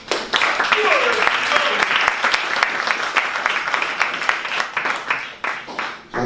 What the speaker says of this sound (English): So if I could just hear it for Ryan Martin